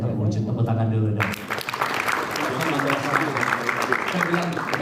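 Audience applause at an Indonesian sales training seminar, a burst of clapping that begins abruptly after someone speaks into a microphone and continues loudly, with background music running underneath.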